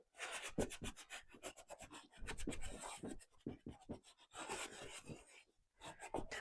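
Quick rhythmic strokes of a rag rubbing wax onto a wooden cabinet cubby. Short scuffing swipes come close and soft, one after another, with brief pauses between bursts.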